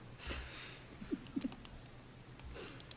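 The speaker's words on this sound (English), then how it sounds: "I'm still typing it in." Quiet, sparse keyboard typing in a meeting room, a few scattered clicks and taps over faint background noise.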